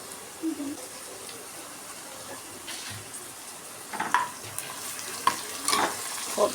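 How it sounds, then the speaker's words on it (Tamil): Mint and coriander leaves sautéing in a pan, a faint sizzle under scattered stirring scrapes and light clinks of utensil against pan. "போட்டு கொஞ்சம் நல்லா வதக்கிக்கணும்."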